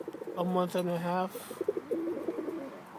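Older roller pigeons coo in soft, throaty bursts near the start, and a voice talks alongside them.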